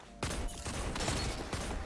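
Gunfire in the video game Destiny 2: several sharp, loud shots crack out in an uneven sequence over a continuous background of game noise.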